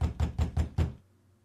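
Five quick, hollow knocks on a door in the horror game True Fear: Forsaken Souls, evenly spaced and close, followed by near silence.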